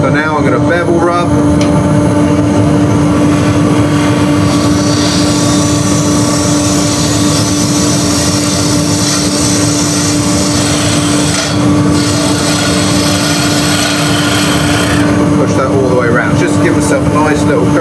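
A wood lathe turns a vase or toadstool blank while a bowl gouge rides its bevel, producing a steady motor hum with a strong tonal drone and a continuous scraping rub of the cutting edge, loud and close throughout.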